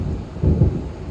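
Thunder from an approaching storm in the video game Alan Wake rumbles as a brief low roll swelling over a soft background hiss, with no talk.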